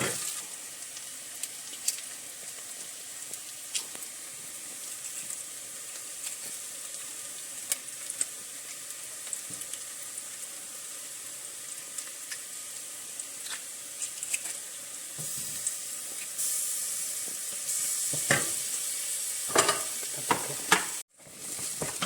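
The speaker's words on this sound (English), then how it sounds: "The onions are browned, so now I'll put in the garlic." Garlic frying with browned onions in a pan for pumpkin curry, a steady soft sizzle under occasional scraping stirs and utensil clicks, with a few louder knocks near the end.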